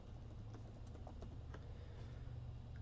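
Soft, rapid keystrokes on a computer keyboard clatter faintly and steadily over a low background hum, with no voices.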